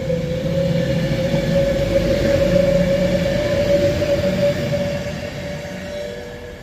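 A train runs through Rugby station on the West Coast Main Line, a steady rumble with a sustained tonal whine held for several seconds, close and fairly loud, easing slightly toward the end.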